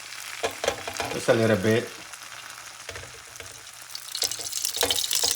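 Grease being poured and sizzling in a pot while onions and mushrooms cook for a rabbit-stuffed pumpkin stew, a steady crackling fry under a brief spoken remark, with some clatter and a louder burst near the middle.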